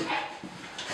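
Dogs in an apartment stairwell give short yelps and whimpering barks in two or three quick bursts, fairly close and reverberant, with no talk over them.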